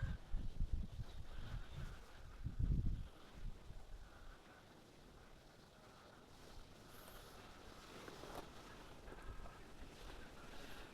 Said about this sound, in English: it is crazy windy out, so I'm sorry if you guys are picking that up